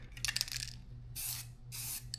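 Hissing bursts from a spray paint can coating engine motors, several separate sprays of about half a second each with short pauses between, close and moderately loud, plus faint clinks.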